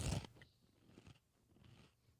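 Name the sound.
crunching while eating a snack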